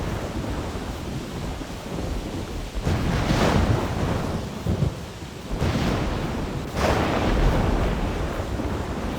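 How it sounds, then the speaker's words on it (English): A thunderstorm in the video game theHunter: Primal, with heavy rumbling thunder rolling in repeated waves over steady rain, loud and continuous with no talking. "It's quite a thunderstorm, huh?"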